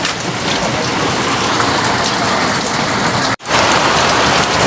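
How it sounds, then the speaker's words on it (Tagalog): Heavy typhoon rain pours down suddenly in a steady, loud roar of drops hitting surfaces, with a brief cut near the end before the downpour resumes at full strength. "kala ko huminto na si Bagyong Juan. Ito, bigla naman bumuhos. Ang lakas."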